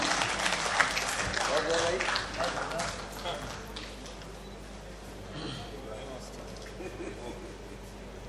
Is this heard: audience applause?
yes